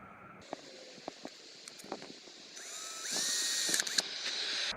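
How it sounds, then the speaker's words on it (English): A handheld power drill working through an aluminium curtain rail in a camper: short clicking bursts, then a sustained whining grind as the bit bites into the metal, close and fairly loud. "Now I know that's not the safest way to drill while holding it, but it's only aluminium"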